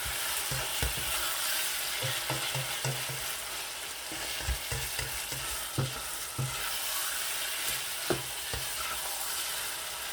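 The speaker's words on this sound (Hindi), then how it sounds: "जो धनिया मैंने कुछ बचा के रखा हुआ था वो भी मैं इस तरह ऐड कर दूँगा और अच्छी तरह से मिक्स कर लूँगा।" Keema mutter with fresh coriander being stirred in a pan, a steady oily sizzle under repeated scraping and clacking strokes of a spoon against the pan, close and fairly loud with no voices.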